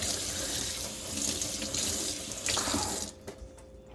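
Rinsed red beans drain in a kitchen sink while water runs steadily from the tap, then the flow cuts off abruptly near the end, leaving a quieter room with a few faint drips.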